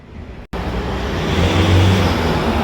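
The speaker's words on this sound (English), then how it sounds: "So folks, excuse the traffic noise." Road traffic passing on a street in Buderim, a loud steady roar of vehicles that swells and holds close by, with no voices over it.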